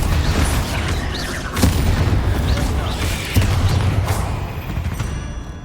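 Confringo blasting curse explosions in the game Hogwarts Legacy, with a few loud booming blasts, near and heavy, over a continuous rumble of spell combat.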